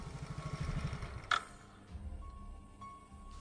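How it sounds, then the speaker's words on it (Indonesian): A motorcycle engine putters in a low, rapid pulse outside a house, then cuts off with a sharp click, leaving quiet room tone. "di luar rumah terdengar suara mesin sepeda motor berhenti"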